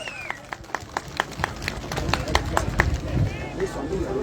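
Crowd applause at the Ayacucho carnival for Socos, with sharp, rhythmic claps from nearby hands building into a fuller, continuous patter of applause while voices carry on underneath.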